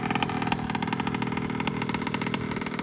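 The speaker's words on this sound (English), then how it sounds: "The clutch doesn't like it. See that? It's slipping like mad." A Vespa scooter engine running with a badly slipping clutch, a steady buzzing drone with slight wavering revs, close and continuous, no talk.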